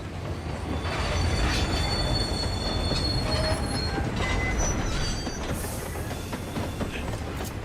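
A train runs steadily in Final Fantasy XIV, its wheels squealing in long metallic tones over a continuous rolling rumble that stays loud and close throughout, with no voices.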